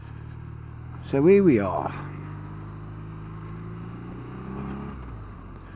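A BMW R nineT motorcycle cruises a twisty road, its engine holding a steady droning note with slight shifts in pitch, while a rider speaks briefly over it.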